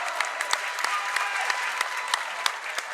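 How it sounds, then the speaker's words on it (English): A basketball crowd at a boys' Division 3 state tournament game applauds steadily, dense continuous clapping with scattered louder claps, full and close throughout the short stretch. "Great cheer from the crowd on both sides."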